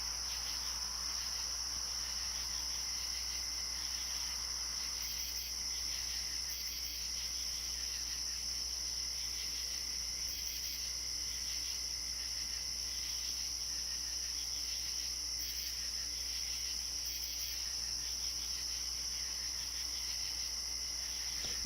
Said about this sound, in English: Forget about the crickets.